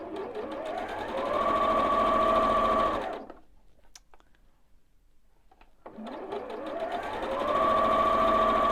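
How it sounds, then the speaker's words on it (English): Two runs of a sewing machine stitching a seam joining blocks of a Carpenter Star quilt top, each a steady close whir that ramps up, separated by a few seconds of near silence. "get that seam sewn in"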